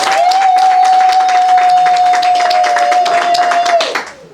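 A room of guests at a civil wedding ceremony breaks into loud, sustained clapping and applause that fades out near the end, with a steady tone running beneath it.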